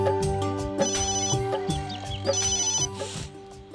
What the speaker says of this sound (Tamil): உங்கள் செல் அடிக்குது